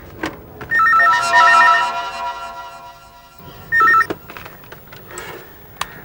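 A telephone rings in two bursts of trilling electronic bell tones, loud and near, with soft indoor shuffling and clicks between rings and no speech.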